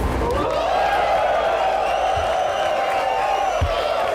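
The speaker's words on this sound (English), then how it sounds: "People are cheering." A crowd in the film Blonde cheers and whoops steadily throughout, loud and continuous, with a few low thumps underneath.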